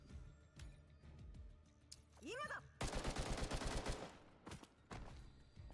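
Video game gunfire from Girls Frontline 2, with rapid bursts of loud shots in the middle of the clip over layered game effects and music, plus a sweeping whoosh just before the heaviest burst.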